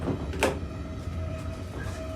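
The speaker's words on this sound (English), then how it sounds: "the doors operate using an automatic button system" Automatic button-operated toilet door on an EMR Class 180 train sliding open, a short whoosh with a faint beep over the steady rumble of the moving carriage.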